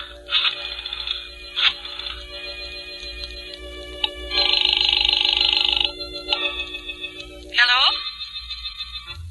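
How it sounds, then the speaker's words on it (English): Telephone sounds in a 1946 Inner Sanctum radio drama: mechanical rotary dial clicks and tones, then repeated bursts of bright ringing, fairly close and clear with no talk over them. "I dialed her number."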